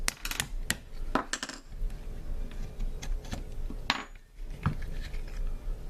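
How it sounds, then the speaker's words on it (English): Small metallic clicks and light taps from a spring being pulled out of an AR rifle trigger assembly, close and fairly quiet, scattered irregularly with no talking. "we're going to go ahead and take out the spring that holds in the sear and the trigger"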